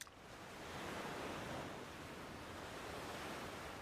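Surf washing onto a beach in an anime episode, a steady broadband wash of waves with soft wind-like rustle, moderately loud and continuous with no talk.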